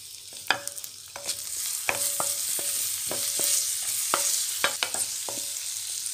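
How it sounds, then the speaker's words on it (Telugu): Smashed garlic and ginger fry in a pan with a constant hiss and sizzle, while a utensil stirs and scrapes against the metal in repeated knocks, close and without voices. "గార్లిక్ ఇంకా జింజర్ స్మాష్ చేసి పెట్టుకున్నాం కదా, అది ఇక్కడ యాడ్ చేసేయండి."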